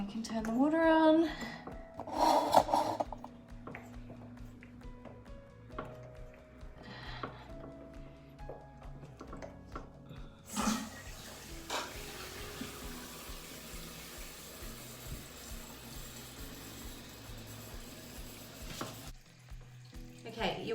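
Water rushing into a toilet tank through a newly replaced inlet valve after the supply is turned on, a steady hiss running for several seconds then stopping, preceded by brief clunks and a short bit of talk.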